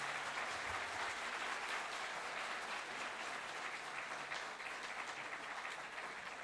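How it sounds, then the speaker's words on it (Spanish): An audience at an academic talk on health text analysis claps steadily for the speaker, a continuous, moderately distant wash of applause with no voices over it. "Entonces, un aplauso,"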